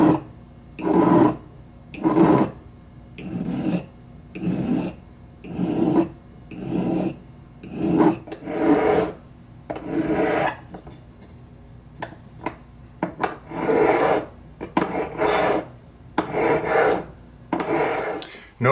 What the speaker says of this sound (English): Notice that when I'm filing, I'm rolling over the metal like this, as opposed to doing this.